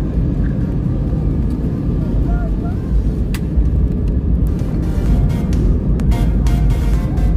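Loud, steady roar of an airplane's engines and cabin rumble during a turbulent descent into Paris, with a few brief rattles and knocks over the drone.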